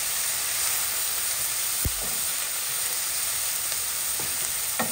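Green pepper and green onion sautéing in a pan, a steady close sizzle and hiss throughout, with a few soft stirring knocks against the pan.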